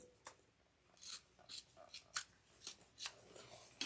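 Scissors trim fabric for a tote bag in a run of about eight quick, close snips at an uneven pace, crisp against a quiet room.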